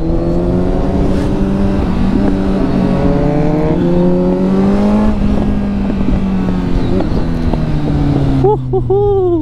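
Motorbikes race along a mountain road, the engines revving and changing pitch loud and close under constant wind rumble, with a person talking throughout.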